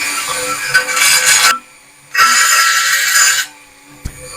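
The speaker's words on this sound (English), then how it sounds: "I'm just going to use my Dremel now to grind this." A Dremel rotary tool grinds a metal truck tray extender for a RAM Warlock in two loud, rasping bursts, each lasting over a second, with quiet pauses between them.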